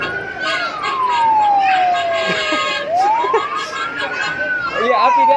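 A fire engine siren on a children's play zone ride in a mall, wailing up and down in a slow rising and falling sweep, loud and steady against busy crowd chatter and children's voices.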